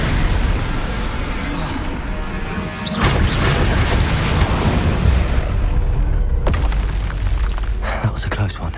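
A loud Bombarda blast spell in Hogwarts Legacy goes off as a booming crash with scattered debris, amid other combat noise and a voice calling out.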